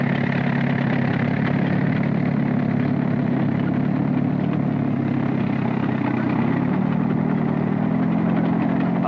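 Tractors racing in a derby, their engines droning in a steady mid-pitched rumble with a grainy, slightly crackly quality, continuous and fairly close throughout.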